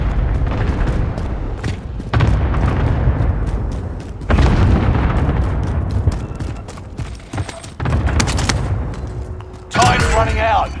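A rocket-system strike in Call of Duty: Modern Warfare hits with a series of heavy booming explosions, several loud blasts spaced a couple of seconds apart, with crackling debris and game voices talking between them.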